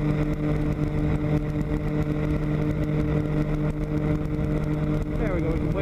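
A weight-shift aircraft trike engine drones loudly and continuously in flight as the throttle is eased back, a steady buzzing hum with wind rush and a faint voice underneath.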